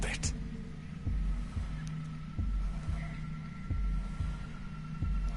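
A slow, regular heartbeat throbs in the video game 2064, low thumps repeating roughly every second and a quarter over a faint steady hum.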